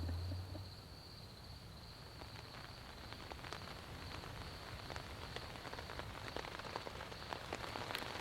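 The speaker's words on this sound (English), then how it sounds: "It's raining again, so we're gonna have to move inside of the tent." Rain patters on a cheap Coleman flower-pattern tent in the mountains, a soft, even hiss of drops with occasional sharper taps. The sound stays steady throughout.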